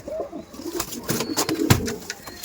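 Pigeons coo in a loft of Kaldom and Laldom birds, several low rolling calls overlapping at close range, with a soft wing flutter and scattered clicks in the background.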